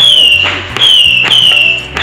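Repeated bangs and crackling bursts of fireworks going off close by at a pool party during the Sturgis motorcycle rally, about three sharp explosions with whistling and sizzling between them.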